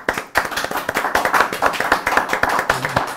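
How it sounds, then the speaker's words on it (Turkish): Hands clapping in a quick, uneven run of sharp claps, close and moderately loud, with no talk over it. "Mehmet abi alkışlayarak bitirelim"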